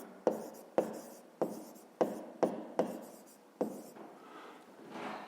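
A pen writing math exercise answers on paper, close and quiet, with about eight distinct taps and short scratching strokes in an uneven rhythm, no speech.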